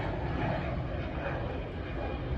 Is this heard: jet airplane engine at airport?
yes